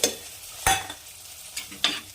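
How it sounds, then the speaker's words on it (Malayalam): Quiet sizzle of spices frying in coconut oil, broken by a few scraping stirs against the pan; no talking. "ഇതെല്ലാം കൂടിയിട്ട് നന്നായിട്ടൊന്ന് വറുത്തെടുത്തിട്ട് ഈ ഒരു കറിയിലേക്ക് നമ്മൾ ചേർക്കാം"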